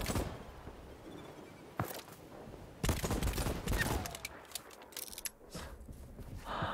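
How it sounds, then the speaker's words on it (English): Gunfire in the video game Voidtrain, heard as scattered sharp bursts and volleys of shots of uneven loudness, some close and punchy, separated by quieter stretches of ambient noise. "I'm just shooting."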